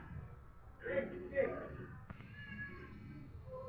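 A cat meows a couple of times close by, short plaintive calls over low background noise, with a person talking quietly around them.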